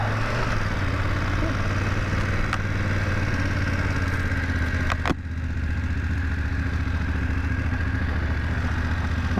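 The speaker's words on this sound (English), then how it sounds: "And I'm riding the 900 GS now." A BMW 900 GS adventure motorcycle under way, its engine droning in a steady, loud low hum with wind rush, broken by one brief sharp clack midway.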